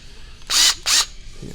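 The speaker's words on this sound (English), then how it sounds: "put it in a hex, your driver or whatever, and just drill it down" Two short, loud bursts of a power drill whirring in quick succession as it drives a screw into a radio-control car kit, close up, with quiet background in between.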